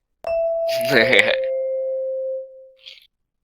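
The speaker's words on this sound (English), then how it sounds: "You hear the chime of school bells" School bells in an academy setting give a single clear chime that rings out and slowly fades over a couple of seconds, with a faint extra tone near the end.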